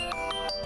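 A mobile phone rings with an incoming call, a bright electronic ringtone that repeats its short tones, clear and alone.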